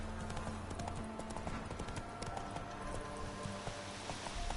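Geralt's horse Roach from The Witcher game, hooves thudding in a fast, even galloping rhythm close by, with no talk over it.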